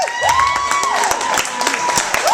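Audience clapping at a live storytelling show, scattered claps under a sustained tone and a crowd murmur, with a voice talking over it.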